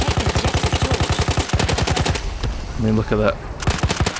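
Hellriegel 1915 submachine gun from the game Battlefield 1 firing in rapid full-auto bursts, close and loud, with a brief pause and someone talking over it before the gunfire resumes.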